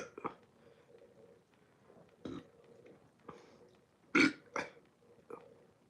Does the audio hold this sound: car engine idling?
no